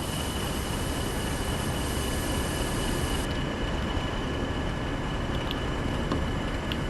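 In Train Sim World, a BR Class 40 diesel locomotive runs on an express passenger service, producing a loud, dense, continuous rumble with a faint steady whine. The roar holds even throughout, with no speech.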